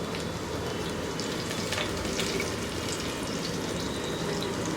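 Chopped garlic fries in hot oil on high heat, a dense continuous sizzle with crisp crackles heard close up, with no voices.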